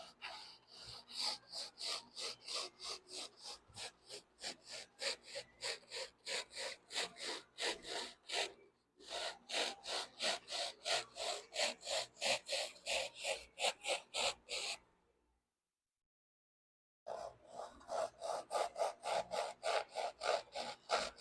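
Foam being trimmed with a saw on a car buck, cut slightly high to leave material for finish sanding; steady, rapid back-and-forth rasping strokes, close and loud, with two brief pauses.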